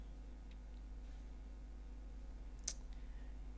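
A computer mouse clicks once, faint and close, against a quiet background hum and light hiss, with no one talking.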